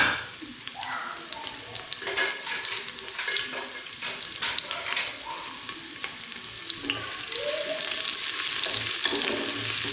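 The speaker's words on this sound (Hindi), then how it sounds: "यहाँ पे एक छोटी मीडियम साइज़ की, बल्कि छोटे साइज़ की प्याज है जो मैंने इसके अंदर डाल दी है।" A small onion fries in hot oil in a pan, sizzling and crackling steadily at a low level, with occasional stirring scrapes and no talking.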